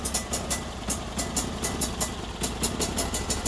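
A Sears Suburban loader's small engine runs rough and rich after a fuel system repair, a steady idle marked by rhythmic exhaust pops and ticks repeating several times a second, close and moderately loud, with no one speaking.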